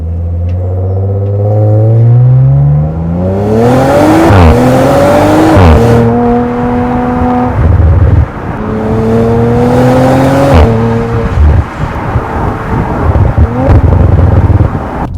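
A 2020 Audi RS4 with a V6 engine revs hard and loud, climbing through several gears with rising pitch, brief drops at each shift, and repeated surges of acceleration close by.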